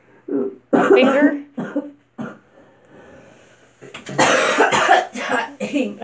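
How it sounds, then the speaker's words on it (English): A person coughs close to the mic in several loud, ragged bursts separated by short pauses, followed by a longer, harsher run of coughing. "Some more coughs?"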